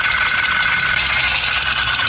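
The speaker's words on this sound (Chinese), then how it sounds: "活塞销断裂异响" A car engine with a broken piston pin idles steadily and loudly, a continuous mechanical hum with a light rattling texture throughout.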